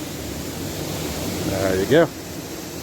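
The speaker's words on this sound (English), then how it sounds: "we are back at the first waterfall" Water roaring at the first waterfall of the River Mirna in Slovenia: a steady, close rush of falling water throughout, with a short spoken phrase near the end.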